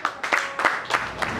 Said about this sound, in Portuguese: Aplauso para a mana, muito obrigado.